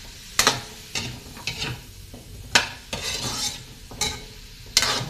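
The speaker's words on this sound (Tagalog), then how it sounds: "gisa-gisahin natin guys ang ating papaya" Papaya sautéed in a pan for chicken liver adobo, with a spatula scraping and stirring in repeated bursts over a soft sizzle, close and fairly loud with irregular rhythm.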